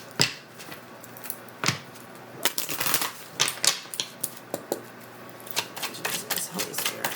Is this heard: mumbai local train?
no